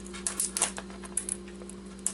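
Keycaps pried off a broken keyboard one after another, giving a run of irregular sharp plastic clicks and snaps, close and fairly quiet over a steady low hum.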